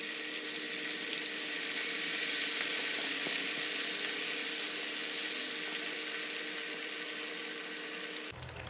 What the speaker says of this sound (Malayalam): എന്നിട്ട് നമുക്ക് ചിക്കൻ ഓരോ പീസുകളാക്കി വറുത്തെടുക്കാം